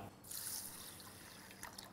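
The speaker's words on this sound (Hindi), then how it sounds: "इसमें हम डालेंगे पानी" Water poured over moong dal in a bowl, prepared for crispy namkeen, a brief close gush and trickle lasting about two seconds, heard alone without talk.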